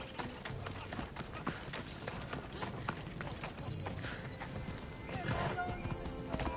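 A horse galloping in the video game Assassin's Creed Odyssey, with rapid, close hoofbeats running steadily throughout, a brief whinny, and game voices and sounds mixed in.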